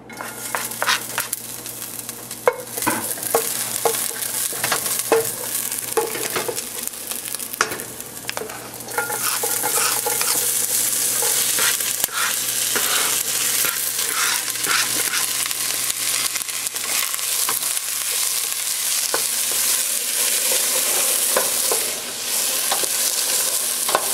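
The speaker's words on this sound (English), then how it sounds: "Now you just want to let this saute for a while, just to let the onions and the garlic, let their flavors come out." Garlic and onions sauté in oil in a pot, a dense, loud sizzle mixed with repeated scraping and clattering of stirring, steady for over twenty seconds.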